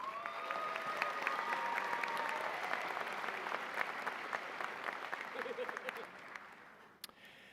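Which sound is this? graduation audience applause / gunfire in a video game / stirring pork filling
graduation audience applause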